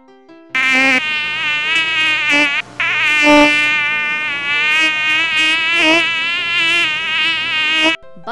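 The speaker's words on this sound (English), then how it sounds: "Mosquito." Loud, close mosquito whine, a sustained high-pitched buzz that cuts out briefly twice before resuming and stopping near the end.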